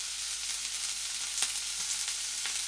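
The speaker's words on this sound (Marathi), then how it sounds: "आपले मसाले छान तेलामध्ये भाजलेले आहेत" Spices fry in oil in a kadhai with a steady, close hiss, plus a couple of faint stirring clicks and no voices.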